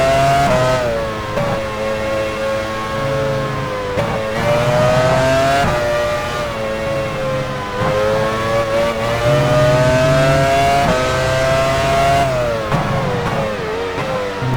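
Formula One car engines from the 2001 Malaysian Grand Prix at Sepang in the racing game F1 Challenge 99-02, a loud continuous high-pitched whine rising and falling through gear changes, with several cars layered close together and no talk.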